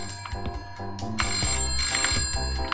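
An antique payphone rings in a Christmas shopping simulator game, a loud, repeating bell-like trill that pulses steadily without voices.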